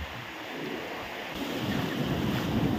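Sea waves wash onto Puri beach with a rising, rumbling roar that grows louder toward the end, mixed with wind buffeting the microphone.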